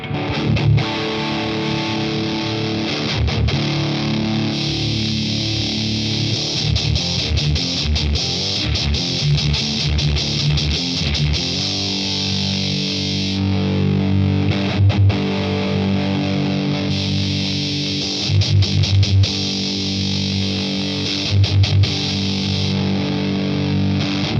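Electric guitar played through a Digitech Death Metal distortion pedal into a Boss Katana amp, heavily saturated riffs and chugging chords running continuously for over twenty seconds, loud and alone with no talk.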